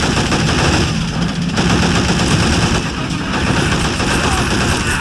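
Artillery and small-arms gunfire from the video game Men of War: Assault Squad 2, a dense, continuous barrage of overlapping shots and blasts at steady loudness across the whole stretch, with a voice faintly mixed in.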